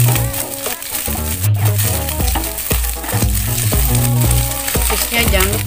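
Otak-otak fish cakes frying in a pan, a loud continuous sizzle running beneath prominent background music throughout.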